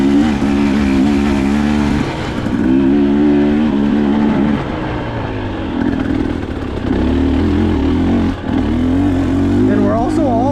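A dirt bike engine drones steadily on an alpine single-track trail, its pitch rising and falling as the rider works the throttle, with a voice talking over the engine noise.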